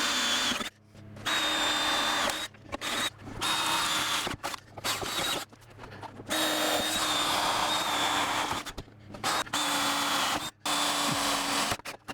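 A power drill bores out spot welds on a junkyard car hinge pillar where a roof skin meets the structural layer beneath, sounding as loud whining bursts of a few seconds each, separated by short pauses, with no talking.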